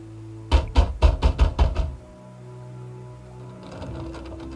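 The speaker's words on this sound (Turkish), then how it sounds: "Kapıyı çalıyorum." A quick run of about six firm, evenly spaced knocks on a door in the video game Little Hope, close and loud, followed by quiet room tone.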